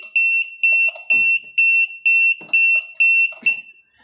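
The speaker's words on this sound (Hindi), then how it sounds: "ये फॉल्ट अलार्म है।" Fault alarm buzzer on an auto packing machine sounds a loud, steady pulsing beep about twice per second, with clattering machinery and clicks under it in an industrial setting.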